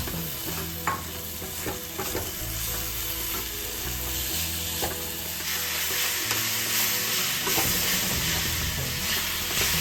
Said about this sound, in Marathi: व्यवस्थित असं मिक्स करून आपण गूळ जरा वितळून देऊया